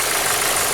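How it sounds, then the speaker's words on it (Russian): A Toyota Corona Premio's 7A-FE Lean Burn engine idles with a steady, loud mechanical hum, its misfires showing only as slight unevenness in the running. "Проблема характерная для этих моторов, значит, то, что двигатель чихает."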